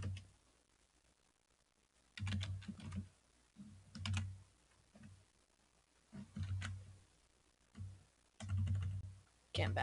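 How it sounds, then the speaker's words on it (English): Typing on a computer keyboard during a Linux system crash: bursts of rapid close key clicks come in several short runs separated by quieter pauses, with a low hum underneath. "Oh, I can still type."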